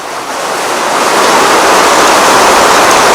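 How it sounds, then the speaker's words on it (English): Heavy rain comes down in a loud, broad rushing wash that swells over the first second and then holds steady and close, with no voices. "The rain is coming down."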